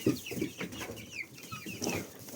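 Chickens cluck and murmur softly nearby in a barn in a short stretch, with scattered bird calls and no talking.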